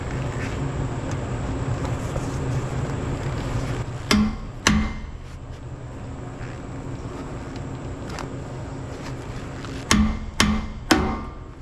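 Hammer blows on the metal flatbed of an ex U-Haul truck during a flatbed build, closing a gap: two sharp bangs near 4 s, a lone tap near 8 s, then three more quick strikes near the end, all over a steady mechanical hum.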